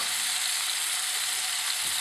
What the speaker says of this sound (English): I'm just going to pan fry them until they go soft and lovely